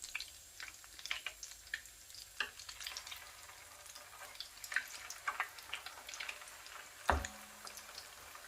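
Aloo kofta frying in hot oil gives a soft, steady sizzle with scattered crackles and pops, and one sharper knock near the end.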